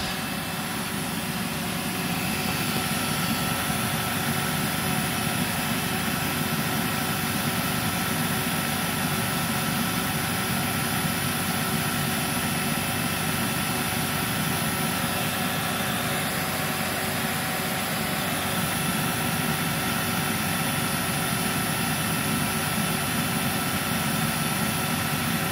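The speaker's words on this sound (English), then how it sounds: "we'll start with the turbine on" A Dyson DC26 vacuum cleaner with its turbine head on roars steadily and loudly, an unbroken, even motor drone lasting the whole time with no talk.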